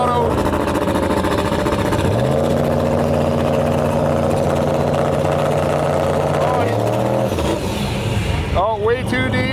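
A turbocharged Chevrolet Silverado drag racing at Gainesville Raceway, its loud engine holding a steady roar and climbing in pitch before shifting near the end, with crowd noise and talk running throughout.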